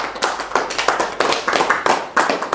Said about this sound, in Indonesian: Berikan sorak-sorai buat itu.